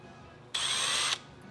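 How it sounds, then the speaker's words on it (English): A power drill bores a hole through a small switch piece on a workbench, one short, steady high whine lasting just over half a second, close and clear against a quiet room. "we're just going to drill a hole through it."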